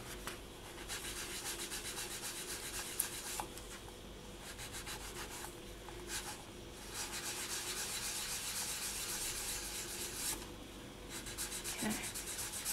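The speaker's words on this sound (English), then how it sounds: "I do want to just give it a light sand with a 400 grit, just to get rid of any slight imperfections" Polymer clay is lightly sanded with 400 grit sandpaper in a long stretch of soft, continuous close-up rubbing and scratching, with brief pauses between passes.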